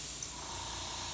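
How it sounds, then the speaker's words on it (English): A mister spray bottle used in airbrush work gives a steady, close, continuous hiss of spray lasting about a second, heard alone. "you use this type of spray, this mister spray, an awful lot in airbrush technique"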